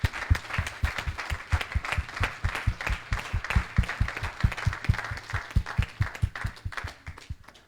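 A church congregation claps in praise of the Lord, a steady run of sharp, fairly quick handclaps that carries evenly from start to finish and fades near the end.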